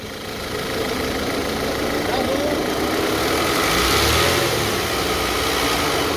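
A 2008 Audi A4 B8 2.0 TFSI Quattro with 290,000 km on it runs steadily with its hood open in a workshop, its engine speed rising and falling a little. People talk nearby over the engine.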